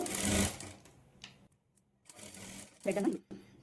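Sewing machine stitching invisible thread piping along a blouse neck edge, running in short bursts separated by pauses, with a voice speaking between the bursts.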